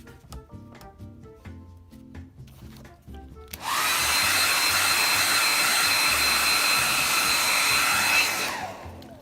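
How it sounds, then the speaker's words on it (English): A hair dryer blows over a model to dry a freshly applied flat clear coat, switching on after a few seconds of quiet tapping and running as a loud, steady, close whoosh before cutting off. "I only use the hair dryer just to move along in the video"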